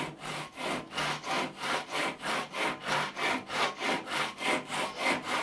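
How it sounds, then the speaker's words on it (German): A hand saw cuts wood held in a jig in steady back-and-forth strokes, about fifteen rhythmic rasping pulls, close and even, with no talk. "ich will jetzt aber genau von hier aus vor dem Strich sägen"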